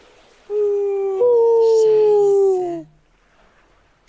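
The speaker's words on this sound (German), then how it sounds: "Wölfe heulen" Wild wolves howling in the wilderness: one long, loud, wavering howl that slides slowly downward over about two seconds, with a second voice joining partway, then quiet.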